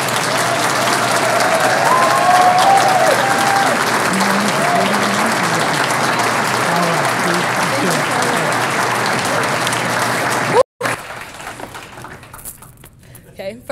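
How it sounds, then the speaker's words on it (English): A large audience applauds steadily for an introduced speaker, Ms. Loren White, at a talk: dense, loud, even clapping for about ten seconds that stops abruptly, followed by quieter room noise. "Please give a big round of applause to our next speaker,"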